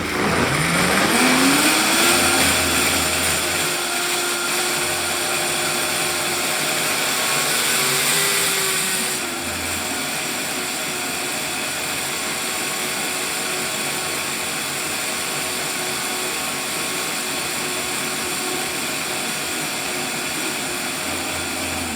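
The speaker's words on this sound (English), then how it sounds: "remove the lid on the blender before turning it on" A kitchen blender whirs loudly while blending peanut milk ingredients, its motor pitch rising and shifting, then holding as a steady, slightly lower drone.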